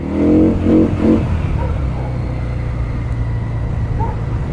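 Benda Chinchilla 350 Neo CVT cruiser motorcycle engine revved three times in quick succession with the throttle blipped, each rev rising and falling loudly and close, then settling into a low steady idle rumble.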